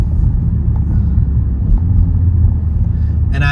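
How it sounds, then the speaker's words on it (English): A 2026 MINI Countryman JCW engine while driving, a steady loud low rumble and drone heard from inside the car, continuous with no talk. "I love the pop of the engine too"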